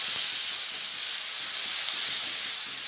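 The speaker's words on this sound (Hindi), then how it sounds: "प्याज को भूंज लेना है ऐसे से" Onion roasting in a hot pan during preparation of cabbage masala pakoda gives a steady, loud, broadband hiss with no break, close and continuous like steam escaping.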